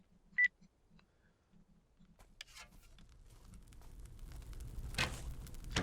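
A phone gives a single short, faint beep early on, followed by quiet rustling and soft clicks during a Betrayer game session.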